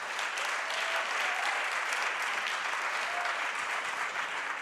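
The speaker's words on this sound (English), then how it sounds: "can you please give them all" Audience at a business debate event applauding the debaters; a continuous, even wash of many hands clapping, moderately loud and unbroken, with no speech over it.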